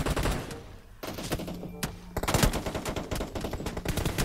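Rapid automatic gunfire in a PUBG Mobile death match, with dense bursts of shots that stop briefly and then come back heavier and louder, with no talking.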